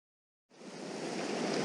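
Waterfall on Dartmoor moorland, a steady broadband rush of falling water that starts abruptly after a brief silence and holds constant, moderately close.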